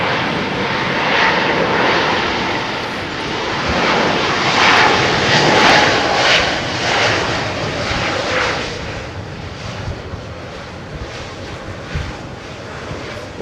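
A Boeing airliner landing at Heathrow roars steadily and loudly throughout, broadband engine noise swelling in the middle and then easing slightly as the aircraft passes.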